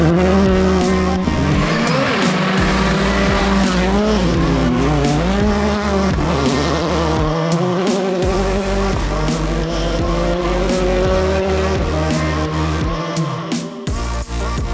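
Hyundai i20N R5 rally car being driven hard, with a loud, close engine revving up and down through gear changes and brief tire squeals and skids, no speech.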